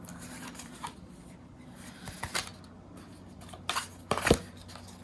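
Backing is peeled off paper pieces for a Graphic 45 Halloween folio, giving close, crisp rustles and tearing rips in short bursts, the loudest near the end.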